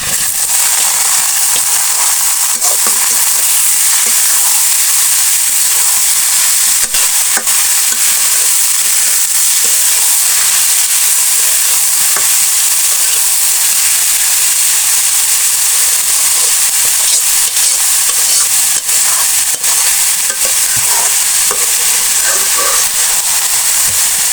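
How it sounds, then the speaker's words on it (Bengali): Greens tossed into a pan of browning onion and garlic, setting off a loud, dense, continuous sizzle with faint stirring clicks that holds steady throughout. "পেঁয়াজ এবং রসুন ব্রাউন কালার হয়ে আসছে আমি শাকটা দিয়ে দিচ্ছি"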